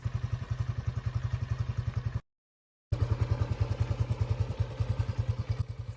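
A 1970s Honda XL175 lightweight dual-sport trail motorcycle engine idles nearby with a steady, rapid single-cylinder thump, briefly cut out for a moment before resuming the same even pulse.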